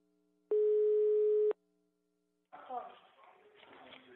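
A single steady telephone line tone lasting about a second while a call is placed, followed by silence and then a person talking.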